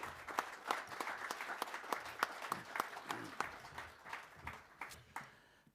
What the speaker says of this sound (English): give a round of applause for these 32 amazing lifesavers